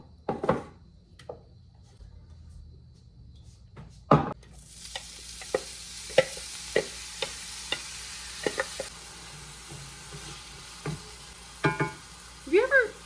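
Food fries in olive oil in a pan, starting quiet with a few clinks, then a steady sizzle sets in under repeated sharp scraping and tapping strokes of a utensil.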